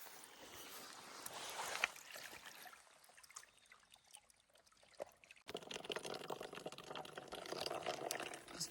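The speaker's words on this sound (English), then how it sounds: "Just filling up some water." Water from a trail water source trickles and gurgles into a bottle as it fills, quiet and close. The flow briefly fades before a stronger splashing stream resumes.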